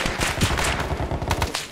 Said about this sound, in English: Lots of gunshots across the river now.